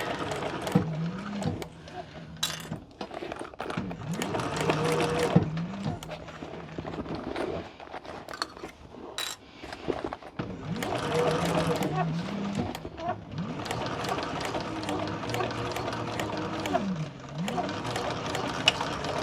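Sewing machine stitching around the sides and back to the start of a handbag, running in steady bursts with short pauses between, while a voice talks over it at times.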